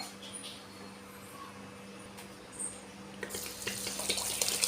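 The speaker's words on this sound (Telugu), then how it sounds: "ఇలా నీళ్లు పోసుకొని కడుక్కోవాలి" Basmati rice being washed in water by hand in a home kitchen, faint sloshing and trickling that grows louder and more splashy toward the end, with a low steady hum underneath.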